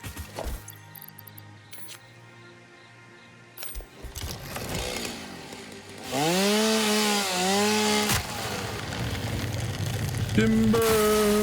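Chainsaw felling a tree in the video game Satisfactory: a buzzing saw that rises and swoops in pitch, preceded by clicks and tool noises, ending with a loud woody crash, fairly close and loud.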